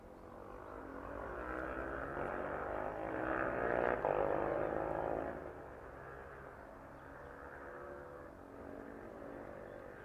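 An aircraft on final approach to runway 27 at East Midlands Airport in the evening produces a distant, steady engine roar that swells toward the middle and then eases off.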